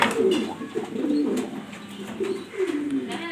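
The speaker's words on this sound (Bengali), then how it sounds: "সেরকম একটা নর কবুতর," A male pigeon of an uncommon breed coos in repeated low, throaty phrases, fairly close and steady across the whole stretch, with no talking over it.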